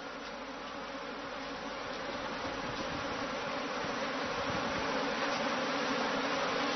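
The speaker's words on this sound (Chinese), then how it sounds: "我从影子那就能看出来蜜蜂没走开" A swarm of honeybees circles close around a person, making a dense, steady buzz that holds for the whole stretch and grows slightly louder toward the end, with no voices.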